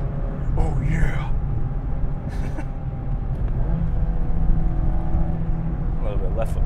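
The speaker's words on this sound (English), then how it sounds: "I'm just gonna kind of shut up and then do a little bit of driving here" A stock-plus Mazda Miata RF ND1 sports car on the road, with a steady engine drone and road rumble heard from inside the cabin, someone speaking briefly over it.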